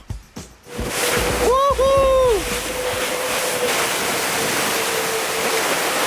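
Water rushing and hissing steadily past a sailboat hull surfing over waves at speed during an offshore race, with a brief high whistling tone near the start, loud and continuous.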